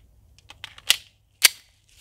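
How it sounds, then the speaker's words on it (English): A firearm magazine being reloaded: a few small clicks followed by two sharp metallic snaps, close and isolated, with no talking. "I am out. All right, I'm going to go ahead and reload."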